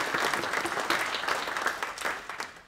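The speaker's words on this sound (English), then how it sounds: "I want everyone to give themselves a round of applause for all these guys that have carried" An audience at a prostate cancer support group meeting applauds, a sustained patter of many hands clapping at moderate distance, steady with slight swells.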